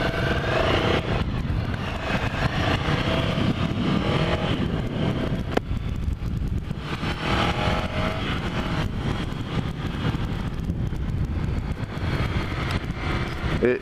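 A 2017 Ducati Scrambler Cafe Racer with about 75 horsepower is ridden steadily, its engine droning loud and continuous close by, with wind rush and no talk.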